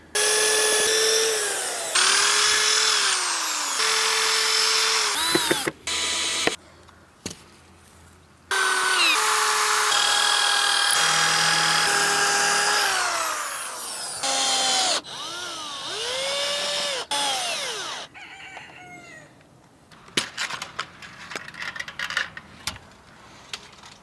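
A power drill bores holes for mounting a salvaged kitchen cabinet handle on a wooden chicken coop part, in several bursts of rising and falling motor whine separated by short pauses, close and loud.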